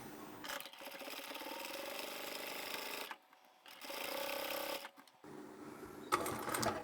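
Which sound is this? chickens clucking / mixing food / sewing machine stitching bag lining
sewing machine stitching bag lining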